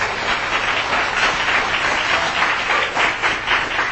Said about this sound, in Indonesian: Tepuk tangan untuk sikap Bapak Ibu ya.